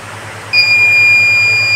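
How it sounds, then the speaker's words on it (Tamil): A water level alarm goes off abruptly, sounding a loud, steady, continuous high-pitched electronic tone over a low background hum. "பீப் சவுண்டும் அலாரமும் தொடர்ந்து கண்டினியூஸ் ஆகிட்டே இருக்கும்."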